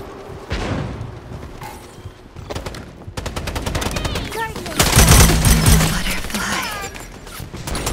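Rapid, loud gunfire and bursts in the shooter game Strinova, including a flashbang grenade. Machine-gun volleys crackle near and far, swelling into a dense barrage amid mechanical clanks.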